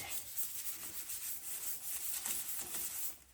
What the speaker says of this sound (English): all we're trying to do is just scuff it so it all looks faded